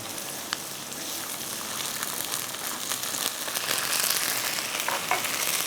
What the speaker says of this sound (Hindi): थोड़ा सा इसको लहसुन के साथ फ्राई कीजिएगा।